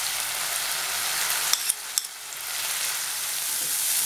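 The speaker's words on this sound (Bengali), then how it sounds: "টমেটো পেস্টটা দিচ্ছি। আবার 2 মিনিট ভাজবো।" A spice paste with tomato paste frying for a Bengali rohu fish and poppy seed curry, giving a steady close sizzle throughout with a few brief stirring clicks near the middle.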